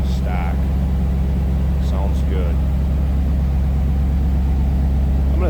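A stock 1992 Chevrolet Camaro Z28 with a 5.7-liter TPI V8 idles with a steady, deep, even rumble, while someone talks over it.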